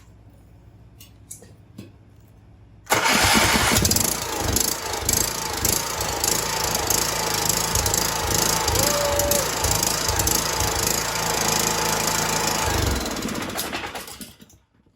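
A Briggs and Stratton 19.5 HP gasoline engine sputters to life abruptly and runs loud and steady with a rough, chugging rattle, then cuts out near the end.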